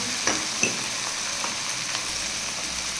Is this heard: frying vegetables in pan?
yes